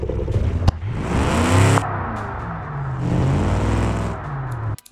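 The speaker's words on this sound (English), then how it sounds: "the mufflers are crap on this engine" Car engine with poor-quality mufflers in the Automation car-building game, revving loudly and close up in two long surges with a gap between them, cutting off abruptly near the end.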